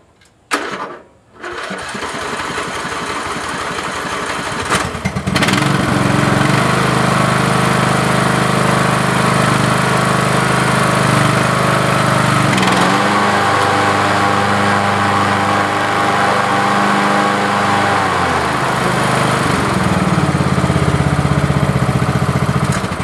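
A lawn mower with a new belt deck starts after a brief pull, then runs steadily at a loud, even drone for the rest of the time.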